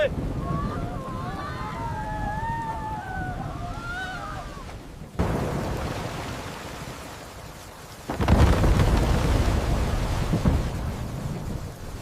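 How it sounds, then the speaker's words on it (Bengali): A Kalbaishakhi thunderstorm, the violent pre-monsoon squall of Bengal. Voices are heard at first, then two heavy thunder crashes break in, the second a loud, deep rolling rumble that carries on under a constant wash of rain. "পালাও সবাই পালাও, কাল বৈশাখী ঝড় আসছে।"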